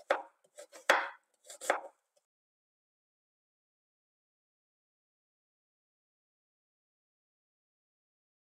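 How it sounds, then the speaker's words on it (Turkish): A knife thinly slices an onion on a cutting board with about five crisp, close chops in the first two seconds, followed by silence. "Şimdi bir adet soğanımızı piyazlık olarak doğruyoruz. İnce bir şekilde."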